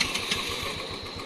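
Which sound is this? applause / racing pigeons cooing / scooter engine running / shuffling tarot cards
scooter engine running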